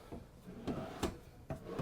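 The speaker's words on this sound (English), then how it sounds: "Notice on all the drawers here, you've got these full extension drawer glides" A soft-close full-extension drawer in a 2025 Newmar Baystar 3826 RV closes several times, with muffled wooden thumps and light sliding clicks spaced under a second apart, quiet and close.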